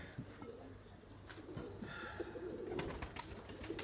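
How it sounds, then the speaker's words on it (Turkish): White Erzurum pigeons cooing in low, soft murmuring calls, several birds close by amid faint rustling and flutters. "Beyaz oyun kuşu ordumuz hazır mı Erzurum kuşu?"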